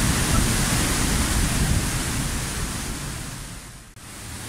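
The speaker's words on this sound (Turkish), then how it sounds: "Gürül gürül akan bir şelale." Palovit Waterfall roars in a dense, steady broadband rush, loud and close, fading slightly toward the end with a brief dip near the finish and no voices.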